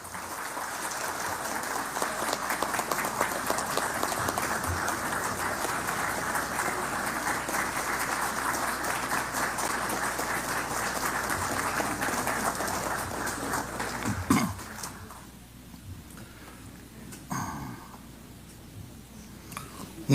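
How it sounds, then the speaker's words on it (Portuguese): Audience applause for Eli Maciel at a Campinas city council ceremony awarding the Arautos da Paz medal, a dense, sustained clapping that fills most of the stretch before dropping off abruptly, leaving a few scattered claps. "Uma salva de palmas para o irmão Eli Maciel."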